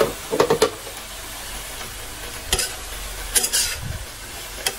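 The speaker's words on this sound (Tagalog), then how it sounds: "Ngayon naman ilalagay na natin yung ating repolyo." Cabbage tossed into a pan of frying pancit noodles crackles and sizzles, with a few sharp clatters of stirring utensils over a steady hiss.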